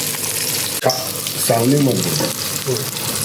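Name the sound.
fish frying in masala on pan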